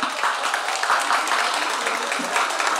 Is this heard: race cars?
no